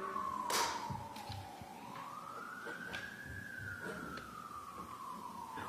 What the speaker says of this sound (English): We hear ambulances and fire engines going by every day, many times during the day.